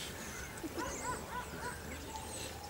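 A six-week-old puppy gives faint, high yips and whimpers, several short calls scattered over a steady background hiss.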